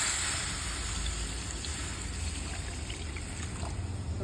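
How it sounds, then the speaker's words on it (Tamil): Water poured steadily into a cooking pan while preparing a Tamil-style mudavattukal kizhangu soup with cinnamon, fennel and pepper, a continuous close trickling stream with no talk. "தண்ணி தேவையான அளவுக்கு ஆட் பண்ணிக்கலாம்."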